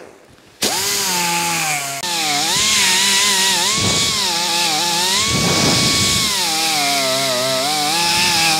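Die grinder fitted with a short cutter machining a bronze bolt, a loud, steady high-pitched whine that spins up abruptly and holds for several seconds with small pitch wobbles as it bites into the metal.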